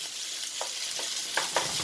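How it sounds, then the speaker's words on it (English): Steady hiss of chicken frying in a hot pan for a stir-fry, with a few soft pops and crackles, fairly close, no voices. "if you did not hear the sizzle sound, that means you're not using the right temperature to cook"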